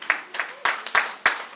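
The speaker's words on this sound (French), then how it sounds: "C'est comme si vous êtes fatigué avec les applaudissements." A small audience at a diploma award ceremony claps thinly, with a handful of sharp claps landing at a steady, tired pace and voices murmuring underneath.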